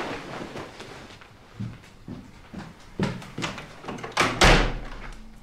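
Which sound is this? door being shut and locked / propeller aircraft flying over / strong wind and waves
door being shut and locked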